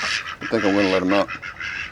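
Ducks quacking close by, a nasal harmonic quack in the middle framed by shorter calls, with a few soft noises around them.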